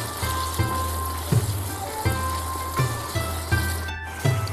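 Prawns and chicken are stir-fried in a pan for Chinese-style gravy noodles, a dense close sizzle with regular scraping strokes of the spatula every half second or so and a brief hiss near the end.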